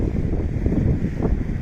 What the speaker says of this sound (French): Il fait un vent, comme d'habitude, Norvège, pays battu par les vents